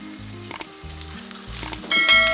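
Crushed and ground red chili frying in a pan for aloo gosht, sizzling close by under a tonal background, with stirring clicks and the sizzle swelling louder toward the end.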